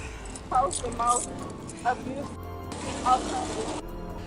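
Keys jangle in a few short metallic bursts close by, with people talking over them and a car nearby.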